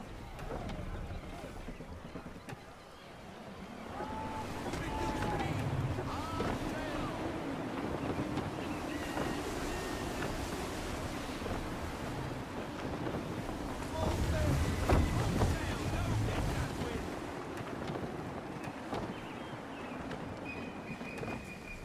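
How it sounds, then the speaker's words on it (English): Gusty wind buffets a sailing ship in Assassin's Creed 3, a steady roar of air and water swelling and easing, loudest near the middle and end, with faint creaks and a few voice-like tones mixed in. "Gusty winds can be difficult to manage."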